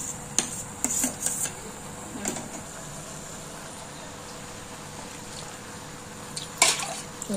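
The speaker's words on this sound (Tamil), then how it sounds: "ஒரு நாலு டம்ளர் தண்ணி ஊற்றிக்கலாம்." Water is poured from a tumbler into leftover cooked rice for sambar sadham, in short splashy bursts separated by quieter stretches of low background noise.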